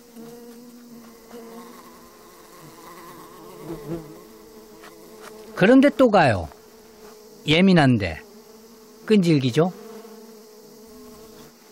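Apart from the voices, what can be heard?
giant hornets buzzing around nest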